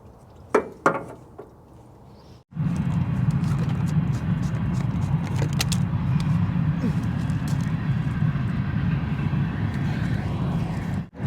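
An engine from an abandoned 1983 Toyota barn find, sitting 15 years, catches after a few clinks and settles into a steady, close, rumbling idle that runs unbroken to the end.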